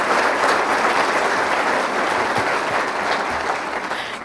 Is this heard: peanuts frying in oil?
no